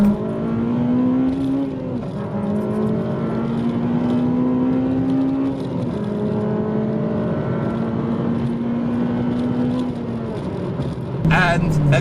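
A Honda Civic FD2 Type R held in first gear revs hard from close inside the car, its engine note climbing steadily and then dropping back several times, loud and sustained.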